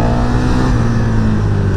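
A 2024 KTM Superduke 1390R engine pulls hard under full throttle, its loud close drone climbing steadily in pitch without a break, with no talk over it.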